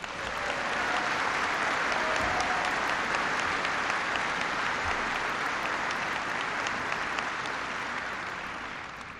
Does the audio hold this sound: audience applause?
yes